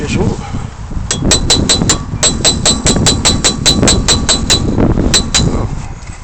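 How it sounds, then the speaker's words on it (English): A hammer strikes a cold chisel against a seized rear brake hub on a Peugeot 307, a fast run of sharp metallic clinks in steady rhythm, close and loud, with a brief pause before a final few blows. "Small touch to the cold chisel."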